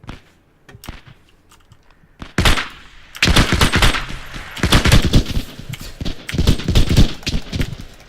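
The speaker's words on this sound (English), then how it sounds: "Yeah, I'm getting shot at." Machine gun fire in the WW2 shooter Hell Let Loose, starting with a few scattered shots, then long, loud, sustained bursts of rapid automatic fire that rattle on close by.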